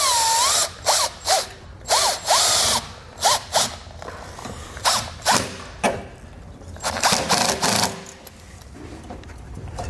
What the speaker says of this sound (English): Now we can go ahead and tighten up that nut there.